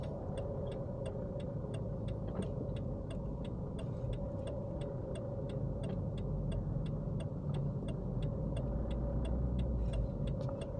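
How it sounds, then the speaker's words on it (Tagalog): Steady rush-hour road traffic on a Riyadh route toward Sulimaniyah, heard as a continuous low rumble of car engines and tyres with a regular faint ticking, like a turn indicator, running throughout. "Ang traffic."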